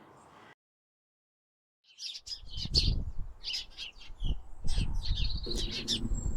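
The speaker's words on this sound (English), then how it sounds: "the little birds found the seed feeder okay" Small birds chirp and tweet around a seed feeder in a frozen Welsh garden, brief bright calls overlapping after a short silence, fairly close with soft rustling underneath.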